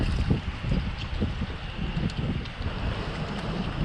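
Wind blowing over open water during a fishing outing in Alabama, a steady broadband rush with low gusty rumble buffeting the microphone throughout, no talk.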